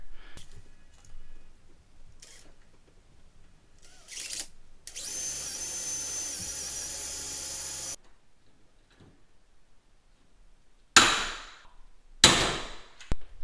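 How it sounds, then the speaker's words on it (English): A power drill whines in a sustained burst between sharp clicks and taps of metalwork, drilling two holes to rivet a cage nut plate onto a Polaris RZR plastic fender mount, followed by a couple of short drilling bursts near the end. "we're just going to drill 2 holes there and rivet this piece in"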